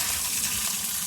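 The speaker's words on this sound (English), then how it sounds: "Very dirty water. So I'm going to dump this" Dirty wash water from felted fleece is dumped out off a porch: a steady, broad gushing splash of poured water, close and continuous, with no talking.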